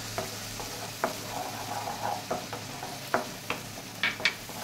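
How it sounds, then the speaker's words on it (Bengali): Onion paste fries in a pan while a spatula stirs it, soft sizzling under several sharp scrapes and taps at irregular intervals, close and with no voices. "পেঁয়াজ বাটাটাকে নাড়তে থাকবো যতক্ষণ না এই জলটা পুরো টেনে নিচ্ছে।"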